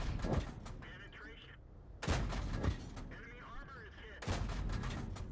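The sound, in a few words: tank cannon shots from a Hellcat in World of Tanks video game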